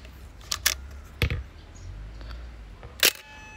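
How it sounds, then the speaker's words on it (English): Shutter of a Nikkormat EL film camera firing normally, giving a few sharp mechanical clicks close to the microphone, each brief snap separated by quiet room noise. "this is how it sounds like normally."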